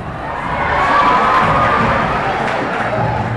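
A crowd cheers and shouts, children's voices prominent, at a children's bodybuilding contest, loud and sustained throughout with a steady roar of excitement.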